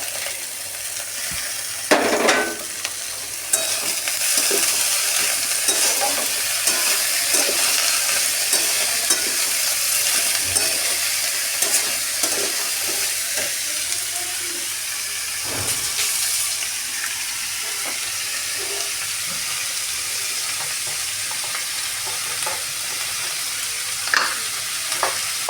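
Mixed vegetables sizzle and fry in a hot pan, a continuous crackling hiss broken by scraping stirs and occasional louder sputters, with no talking.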